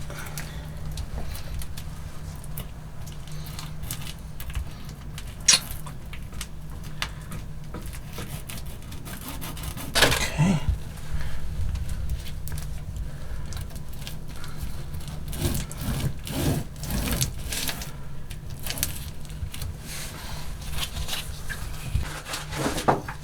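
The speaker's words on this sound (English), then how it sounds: "I'm currently sitting here continuing to mix this epoxy" Epoxy being stirred and mixed in a container while building a boat hull, heard as continuous, close scraping and rubbing with irregular knocks and scuffs throughout.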